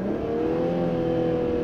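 A 2016 Infiniti Q50 Red Sport 400 revs hard toward redline, its engine holding a loud, sustained, slightly rising drone from inside the car with no speech.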